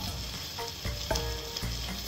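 Small pieces of young cauliflower fry in butter in a pan, a steady close sizzle and crackle with a few brief clinks and scrapes over it.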